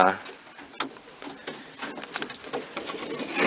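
Pigeons coo softly in a loft, with rustling, fluttering and light shuffling throughout, and a voice briefly in the background.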